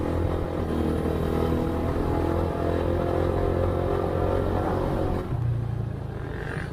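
A vintage two-stroke motorcycle is ridden at night with a steady, loud engine drone and rumble close by, easing off toward the end.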